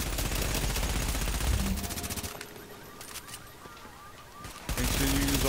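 Gunfire in The Division's Dark Zone, with rapid automatic bursts near and loud, a quieter pause with scattered shots, then heavy firing again.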